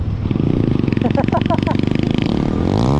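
A small tricycle engine revs hard close by, a rising throaty exhaust roar from the pipe with a voice shouting over it.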